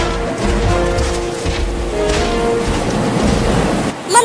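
Floodwater in a cartoon village sweeps along as a steady, continuous rush and surge of water, broad and wash-like throughout, ending with a brief splash-like burst.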